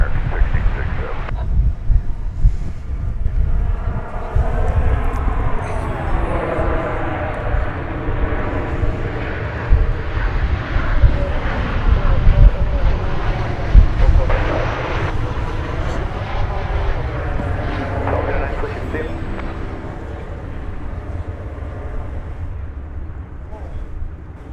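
American Airlines Flight 1324 from Los Cabos touches down at Dallas Fort Worth Airport, a sustained, loud jet roar and rushing wind filling the whole stretch with indistinct voices murmuring underneath.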